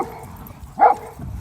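A dog at a farm gives one short, close bark-yip amid quiet surroundings, with faint whimpering sounds around it.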